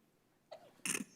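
A single sneeze rings out during a city council meeting, a brief sharp burst after a short intake of breath, close and fairly loud against a quiet room.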